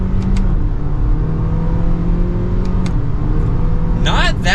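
A 2023 Toyota Corolla XSE Hatchback with a non-turbo engine pulls hard at full throttle in second gear, its engine note droning steadily and rising from inside the cabin, with a brief voice near the end.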